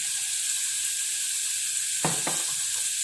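Coriander added to a hot frying pan while cooking spiced nipah bananas gives a steady, close sizzle, with a couple of brief stirring scrapes near the end.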